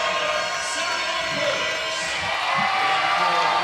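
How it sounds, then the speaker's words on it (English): A swimming-meet crowd at the Swim England National Winter Championships cheers for the Mount Kelly swimmer, a sustained roar of voices and whoops in an indoor pool hall, with a commentator talking over it. "And there we have the cheer"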